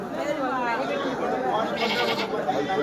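A young suckling goat kid bleats amid the busy din of a livestock market, its cries mixed into steady crowd chatter and background noise.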